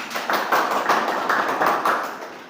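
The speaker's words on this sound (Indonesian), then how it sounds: "Oke, bagus ya, tepuk tangan dong." A classroom full of students claps hands in applause during a school lesson, a dense, lively patter of many hands with a few louder swells, close by and fading slightly toward the end, no voices.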